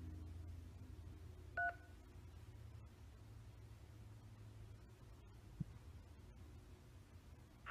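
A single short telephone keypad DTMF tone sounds clearly once against a quiet low hum, then a faint click follows, with no voices.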